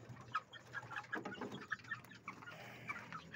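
Chickens cluck in short bursts, young cockerels and baby pullets at two months old, with scattered chirps and peeps close by and no talking.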